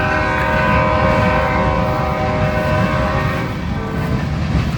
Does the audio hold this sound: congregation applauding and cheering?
no